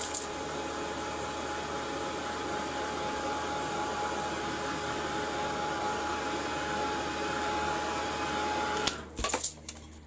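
A blower dryer aimed at fresh paint on a bird tag, giving a steady close whooshing roar for about nine seconds, then a few brief clunks and rustles as it stops.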